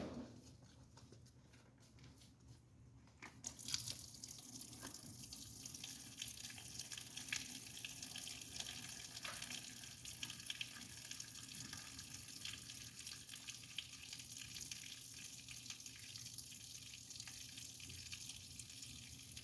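Water runs steadily from a tap into a bucket to dilute floor wax stripper for VCT tile, starting after a few seconds as a constant faint rushing splash with no talking.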